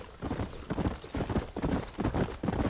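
Horse hooves clip-clopping in the video game Red Dead Redemption, a steady close rhythmic trot of hoofbeats with an occasional faint whinny, no talk.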